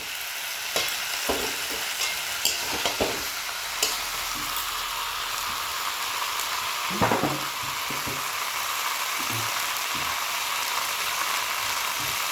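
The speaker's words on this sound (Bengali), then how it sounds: "ফুলকপি আর আলুগুলো দিয়ে ভালো করে নেড়ে চেড়ে মশলার সঙ্গে ভালো করে মিশিয়ে নিচ্ছি।" Cauliflower and potatoes stirred and frying with spices in a pan for a fish curry, a steady close sizzle with scattered scraping stirs throughout.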